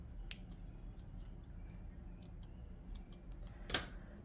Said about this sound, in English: I'm going to make a chain of 1 and cut my yarn